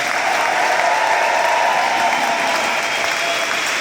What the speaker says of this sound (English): you also give a cheer to our fantastic speakers?